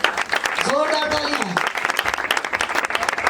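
A church congregation at a prayer gathering in Faisalabad applauds loudly, steady dense clapping throughout while a voice calls out briefly over it near the start.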